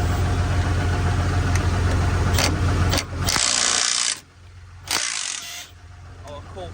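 Pneumatic impact gun bursts rattle loose the wheel nuts on a truck, loud and close over a steady engine hum, with a few short separate bursts.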